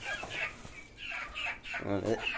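Native chickens on a farm cluck in short, close bursts, with a person speaking nearby between the calls.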